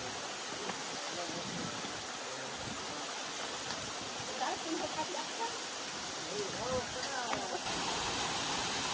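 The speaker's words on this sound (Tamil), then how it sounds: "மொத்தம் தண்ணி வருது." Water flowing into a natural pool at Wadi Hanna in Salalah makes a continuous, even rush, close and steady, with faint talk underneath.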